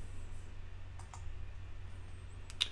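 A few faint, sharp mouse clicks on the configure button in DEQX calibration software, isolated ticks heard close against a quiet background hum.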